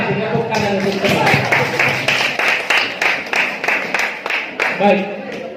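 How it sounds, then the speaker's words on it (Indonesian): Classmates clapping in a school classroom for a fellow student: a brief burst of hand claps over a voice, then a few separate, rhythmic claps that fade as talking resumes. "Tepuk tangan untuk teman."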